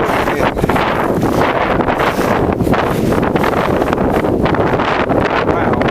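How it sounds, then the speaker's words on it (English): Cold wind gusting across a hillside above a valley, a loud, constant roar buffeting the microphone without a break. "Just as you can hear the wind."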